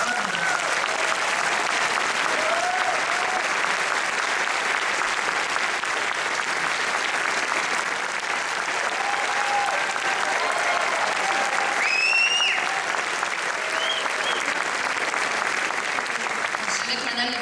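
Warm, sustained applause from a theatre audience at a Quebec cultural event, a dense even wash of clapping lasting many seconds with occasional whistles or cheers rising above it.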